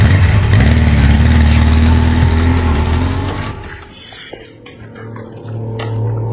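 A motorcycle rides off in a Hindi-dubbed South Indian film scene, its engine loud and droning at first, then fading as it pulls away, leaving a quieter rumble.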